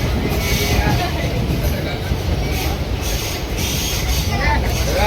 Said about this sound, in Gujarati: તો આપણી ભીલડી ટ્રેન રવાના થઈ ગઈ છે